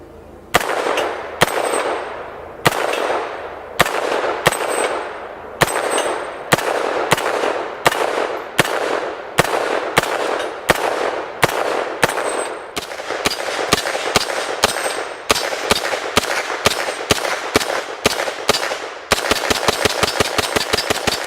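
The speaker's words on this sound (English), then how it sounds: "let's shoot this pistol and see how it shoots." A small pistol fires a long run of sharp, loud shots at a steady, quick pace, ending with a rapid burst of closely spaced rounds, with no talking.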